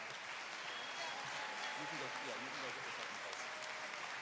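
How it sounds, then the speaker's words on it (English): Applause for IT security students at a career academy recognition ceremony, a soft, distant wash of crowd clapping with faint voices murmuring underneath. "Let's give our IT security another big round of applause."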